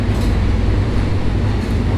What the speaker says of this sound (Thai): อันนี้มันเสียงรถไฟ